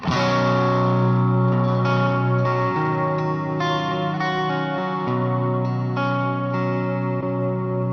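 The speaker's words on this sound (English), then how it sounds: "Just adds reverb on top." A sustained electric guitar chord rings through an analog drive pedal into an AC30 amp, with washy reverb layered on top. It is loud and dense, with restruck chords blending into a continuous smeared tail.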